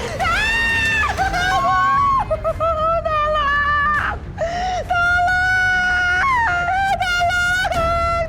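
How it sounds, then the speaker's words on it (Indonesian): A woman screams and wails in fright in an Indonesian TV drama, long shrill cries that break and restart again and again, loud and close, with other voices crowding in around her. "Mama kenapa sih teriak-teriak?"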